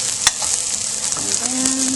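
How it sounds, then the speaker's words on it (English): Egg foo young patties fry in a pan with a loud, continuous sizzle, a sharp spatula tap near the start and light scraping as they cook. "Now you can see how the egg is cooking there."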